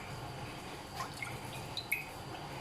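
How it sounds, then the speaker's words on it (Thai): Cold water is poured into a bread dough mixture in a home kitchen, a faint, soft trickle of drips and light splashes over a steady low background hum, with no talking. "ใส่น้ำเปล่า น้ำเปล่าเย็นนะคะ"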